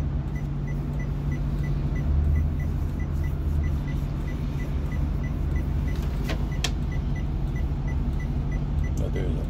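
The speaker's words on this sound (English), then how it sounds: "Plenty of traffic." Road traffic passes near a parked school bus in San Juan Capistrano. A steady low hum of engines runs throughout, with a few faint clicks and rattles close by.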